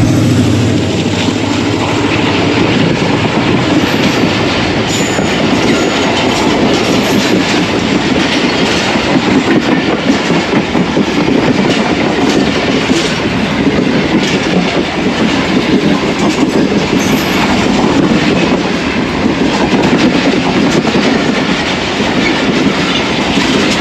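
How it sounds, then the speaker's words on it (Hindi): The Awam Express, hauled by a ZCU-30 locomotive, rolls past at reduced speed near a Karachi level crossing; a loud, continuous rumble with clattering wheels on rail joints fills the whole stretch, close by. "8:30 पर 13 अप अवाम एक्सप्रेस ZCU-30 के साथ पास होने लगी है और मार्शलिंग यार्ड पे रुक गई थी, इस वजह से स्पीड कम है।"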